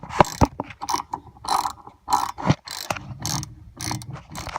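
Ratchet wrench tightening vehicle brake caliper bolts, a close series of rapid clicking bursts in an uneven rhythm with no talk.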